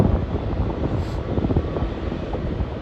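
Airliner lined up on the runway at Schiphol airport, its jet engines producing a loud, steady rumble with rough low-end buffeting, constant from start to finish.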